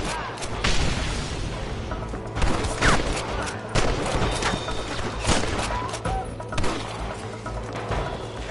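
Repeated gunfire and booming shots crackle through a battle scene in the Western video game Red Dead Redemption, a dense, continuous barrage of bursts with heavier thumps over a steady background din.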